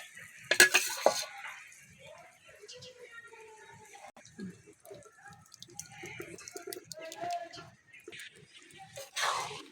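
A spoon mixes boiled dal with tomato in a pot, giving soft scrapes and light metallic taps close by. Someone speaks quietly over the stirring, and a louder clatter comes near the start and again near the end.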